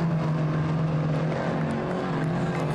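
A Formula Offroad race car in Iceland drives at full power, its engine a loud, steady drone with a strong low tone held throughout, close and unbroken, with no talk over it.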